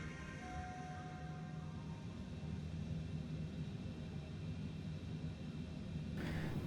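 A Cessna Longitude business jet sits on runway 34 left in Flight Simulator 2020, its engines giving a steady low rumble and broadband roar that holds level throughout, with a faint brighter hiss rising near the end.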